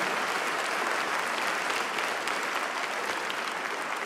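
A church congregation applauds at a sermon, a dense, even wash of clapping that holds at steady volume with no break.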